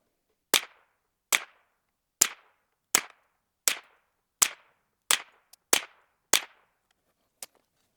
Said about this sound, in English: now we're shooting some Aguila Super Extra